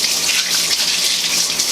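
Peppers being rinsed under a running kitchen tap, a steady close gush of water that runs unbroken and fairly loud, with no voices.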